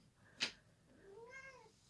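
A sharp click, then a single drawn-out cat meow, fairly close and quiet, with no other sound around it.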